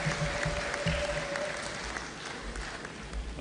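A large crowd at a political rally in Dar es Salaam, addressed by the President, applauds for the chairman of the council of elders with sustained, dense clapping that fades slightly, then picks up again.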